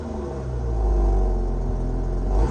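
2019 Dodge Charger V6 exhaust note, a steady, deep, droning rumble that swells slightly in the middle, heard close with no talking.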